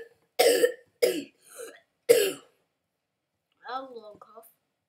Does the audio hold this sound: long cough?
yes